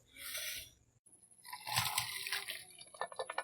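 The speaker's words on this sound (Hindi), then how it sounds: "अब हम छन्नी की मदद से पानी निकाल लेंगे।" Water from boiled lentils and potatoes drains through a sieve in a kitchen, a soft, close splash and trickle that comes in a brief pour, pauses, then resumes with small patters and drips.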